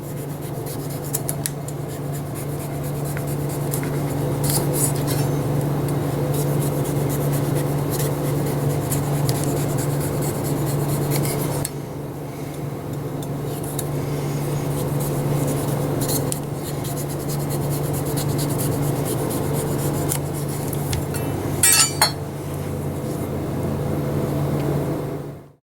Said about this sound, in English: I run my knife around the perimeter like this.